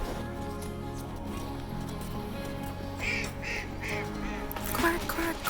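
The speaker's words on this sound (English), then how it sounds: "Quack, quack, quack." Ducks quacking in a snowy Central Park near Gapstow Bridge, a few short nasal quacks in quick succession over a busy outdoor background, with people talking nearby.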